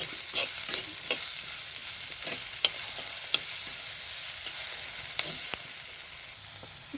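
Onions sautéing with salt in a pan, a soft steady sizzle broken by regular scrapes and taps of a spoon stirring, heard close and without voices.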